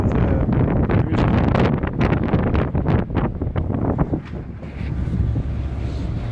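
Strong stormy wind roars at a port in Norway, buffeting the microphone in loud, rough gusts around a moored cargo ship. It eases slightly toward the end, with no one talking.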